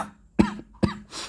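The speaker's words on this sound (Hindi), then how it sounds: "सॉरी दोस्तों, मैंने वीडियो में 2 बार खांस दिया है" Two sharp coughs from a man come close together, each a short harsh burst, followed by a faint breath.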